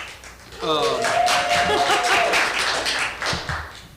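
Scattered clapping breaks out among the audience at a city council meeting, with light taps under someone talking nearby.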